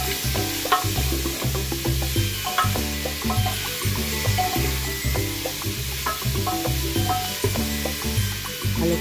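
Mutton stew with vegetables sizzles in a pan while it is stirred, with a steady crackle of frying under repeated scraping and clattering stir strokes in an irregular rhythm, close and moderately loud.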